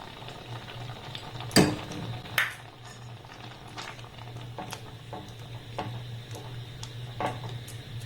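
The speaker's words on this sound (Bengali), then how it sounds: "গ্যাসের ফ্লেমটাকে লো টু হালকা মিডিয়াম দিয়ে একটু ভালোভাবে ফুটিয়ে ঘন করে নেব" A pan of chhana and condensed milk simmers on a low to medium flame, a steady low bubbling hum broken by a few sharp scraping strokes of a spoon as it is stirred.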